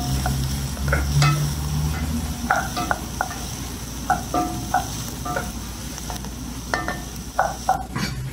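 Mushrooms and bell peppers sizzle steadily in a pan, and a utensil scrapes and clacks against the pan in irregular bursts as the vegetables are stirred.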